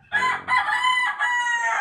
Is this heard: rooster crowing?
yes